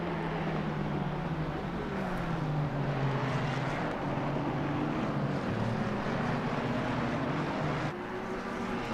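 GT race car engines in a sim race at Silverstone drone continuously, their pitch rising and falling with throttle and gear changes under a constant wash of road and wind noise, with no voices.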